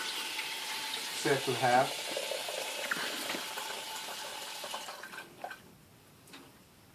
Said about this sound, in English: fill a little bit of cold water